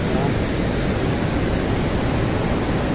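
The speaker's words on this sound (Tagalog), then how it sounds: "Ang lakas ng alon," Strong ocean surf on the Camaya Coast shoreline, a loud, constant roar of crashing waves with no break, filling the whole stretch close to the listener.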